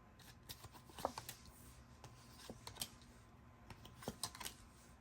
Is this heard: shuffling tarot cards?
yes